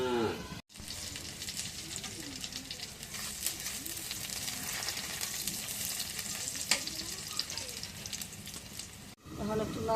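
Chicken feet, gizzard and liver frying in a pan, with a steady close sizzle and crackle throughout and occasional stirring scrapes and clinks, briefly interrupted near the start and end.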